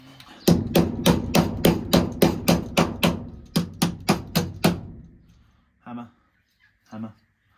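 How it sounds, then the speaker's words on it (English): Hammer blows land one after another: a run of about nine sharp strikes, a short pause, five more, then two duller taps spaced apart, all close and loud with nothing else underneath. "Hammer."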